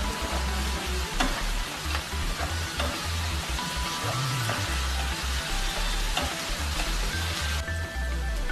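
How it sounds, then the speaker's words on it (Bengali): Garlic and ginger fry in hot oil in a pan, a dense, even sizzle that continues without a break for the whole stretch, with light stirring scrapes now and then. "আমি এর মধ্যে এবার রসুন আর আদাটা দিয়ে দিচ্ছি, যতক্ষণ কাঁচা গন্ধটা না যাবে ততক্ষণ আমি এটাকে ভাজবো।"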